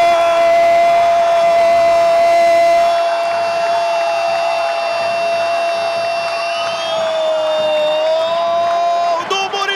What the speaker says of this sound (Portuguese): Torcida agita nas arquibancadas do José Gomes da Costa